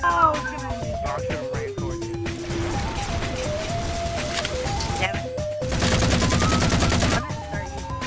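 Rapid automatic gunfire from a favorite weapon in Halo 4 multiplayer, bursts of shots over game music and effects, with a louder sustained volley near the end.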